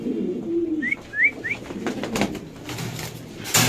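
Pigeons at a Bangladeshi pigeon farm give a low coo followed by a few short chirping calls close by, over a soft background hum with light rustling.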